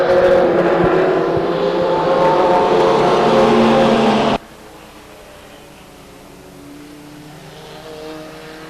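Racing trucks roar loudly around Stockton 99 Speedway in a dense, sustained engine blare. The sound cuts abruptly to a faint, distant engine hum for the remainder.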